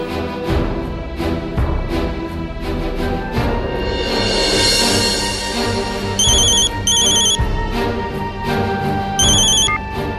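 A mobile phone rings in a repeated, tonal electronic pattern against a loud musical background, several clear ring bursts in the second half.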